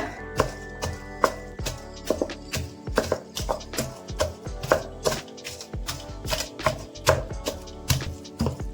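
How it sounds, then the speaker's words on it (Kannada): Cooked avarekalu field beans being mashed in a pot for sambar, a steady run of sharp, close taps and squelchy presses repeating roughly every half second with no talk. "ಅವರೆಕಾಯಿನ ಚೆನ್ನಾಗಿ ಈ ತರ ಸ್ಮ್ಯಾಶ್ ಮಾಡ್ಕೋಬೇಕು"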